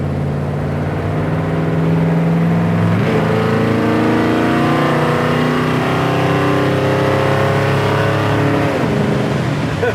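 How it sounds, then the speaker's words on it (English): A 1965 Ford Galaxie with a rebuilt transmission drives along, its engine and exhaust holding a loud, steady drone that climbs in pitch through the gears, with a shift near three seconds and another near nine. "I love the exhaust sound."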